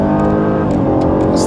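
A 2013 starter sedan with a 6-cylinder engine launches hard with slight wheelspin, a loud close engine drone revving steadily through the short burst.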